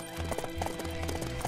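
Horse hooves clip-clop in steady repeated beats in Samurai Warriors 5, a battlefield action game, fairly close with game music and effects layered over them.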